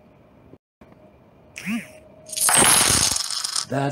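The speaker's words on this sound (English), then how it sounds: "That's the sound of another Cash App donation" A Cash App payment notification chime plays: a short rising electronic jingle like dropping coins, followed by loud excited cheering and talk.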